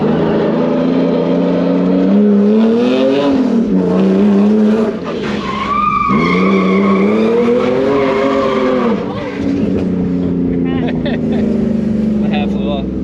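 A BMW E46 on BC Racing coilover suspension drives hard, its engine loud and close, revving up and down through repeated rising and falling pulls, with brief tire squeal between shifts.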